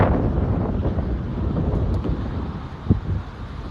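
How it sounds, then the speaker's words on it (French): Strong wind in the streets of Monaco buffeting the microphone, a continuous low rumbling roar with a brief louder gust near the end and no voices. "Il y a énormément de vent."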